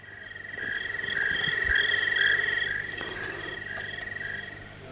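Steady electronic cricket chirping from a baby toy plays continuously, a bright high trilling loop with faint background hiss, no voices.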